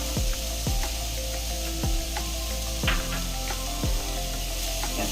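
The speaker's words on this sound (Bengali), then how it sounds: "তো এবার আমরা এই শ্রেডেড চিকেনটা এর মধ্যে দিয়ে দেবো, সেটা হচ্ছে ক্যাপসিকামটা।" Shredded chicken and capsicum sizzle with vegetables in a pan for an egg chicken soup, a constant loud frying hiss with spatula scrapes and knocks recurring roughly once a second as the mixture is stirred.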